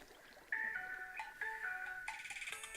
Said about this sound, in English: Getting a phone call from Emma.